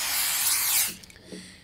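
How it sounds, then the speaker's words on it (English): Rat spray in the video game The Convenience Store gives one continuous hissing burst lasting just under a second, close and fairly loud, followed by faint soft rustling and handling noises. "A bit of rat spray?"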